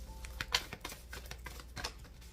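Tarot cards shuffled by hand, giving a quick run of light papery riffles and taps, close and soft, with no talking.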